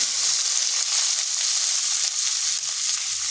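Sliced onion frying in hot oil, a loud, steady sizzle that carries on without a break, with no voices.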